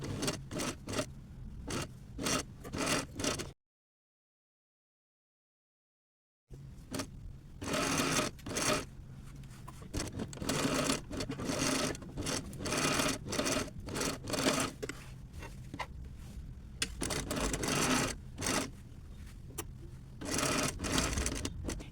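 A sewing machine stitches fabric strips onto a pillowcase with bow ties. Rapid, rhythmic needle bursts sound up close, stopping for a few seconds of silence before resuming in repeated runs of stitching.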